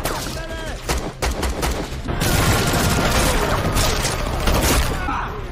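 Rapid bursts of gunfire crackle loudly and continuously, with booms and chaotic shots layered over one another in a dense barrage, as an armed group attacks UN officers in a film.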